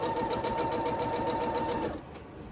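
Sewing machine running steadily as it stitches scrappy quilt blocks together two by two, a loud continuous mechanical hum with a tonal whine that stops abruptly near the end.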